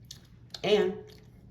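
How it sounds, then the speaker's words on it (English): Crunchy MRE bar with rice crisps and cayenne-raspberry flavor bitten once, a short crisp crunch followed by a brief chewing sound, close and quiet. "the little Rice Crisps add a very welcoming crunch to this bar"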